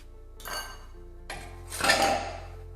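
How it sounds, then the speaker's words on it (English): A spoon folding sooji batter in a pan, with a couple of metallic scrapes and clinks against the pan over a low steady hum, fairly close and without talk. "So now you can slowly fold that. Let me use the spoon there."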